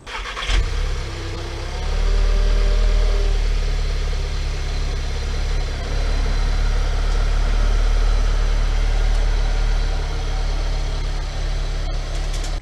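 A 2015 VW Golf R engine turns over and then runs at a steady, close idle, a low continuous rumble with no talking.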